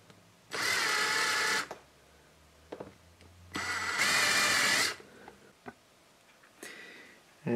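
Power drill boring a hole with a 4.5 mm bit while milling an extruder for a DIY 3D printer, two loud sustained whirring bursts of about a second each, separated by quiet handling clicks and ending with shorter taps.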